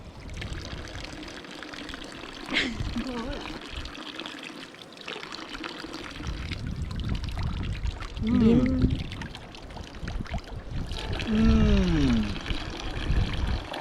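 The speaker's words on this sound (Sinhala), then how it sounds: "මේක ඔටෝ එන කඳු වලින් එන වතුර." Cold mountain drinking water runs steadily from a tap in Liechtenstein, a continuous splashing flow with people talking over it.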